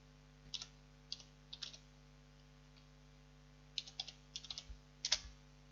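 Keys on a computer keyboard click in small, irregular bursts of a few strokes at a time, close and quiet, with a pause in the middle and a faint steady electrical hum beneath.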